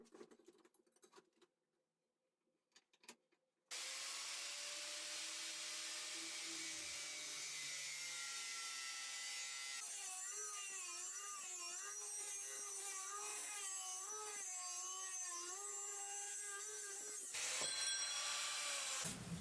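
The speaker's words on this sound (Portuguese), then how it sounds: "Viram que rápido que foi esse corte, sem ficar forçando a máquina, sem ficar forçando o disco, um corte limpo" An angle grinder disc cuts a metal sheet clamped to a workbench: after a few quiet seconds, a loud, continuous high whine starts and holds, its pitch wavering as the cut goes through.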